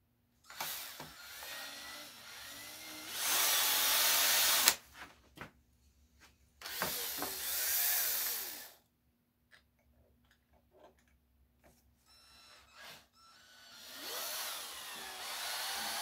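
A power drill drilling with the bit walking across the surface, heard in several loud, close bursts of a few seconds each, separated by quiet pauses and scattered small clicks.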